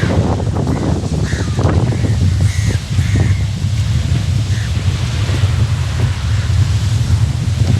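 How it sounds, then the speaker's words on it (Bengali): Crows caw in short repeated bursts on Parrot Rock island off Mirissa, moderately distant, over a constant roar of wind buffeting the microphone and ocean surf breaking below. "শুধু অনেকগুলি কাক দেখা যাচ্ছে।"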